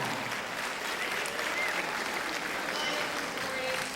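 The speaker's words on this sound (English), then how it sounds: "Let's give Miss Milagros Camacho a big round of applause" School assembly audience at a Jersey City public school applauding in a steady, dense wash of clapping that holds level for several seconds, broad and roomy with no breaks.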